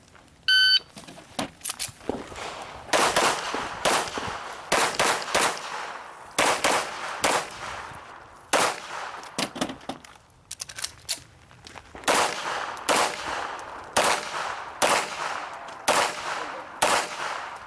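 Pistol fire at an IDPA shooting match at Charlotte Rifle & Pistol Club cracks out in rapid clustered strings of sharp shots, loud and close, with brief pauses between groups and a short beep at the start.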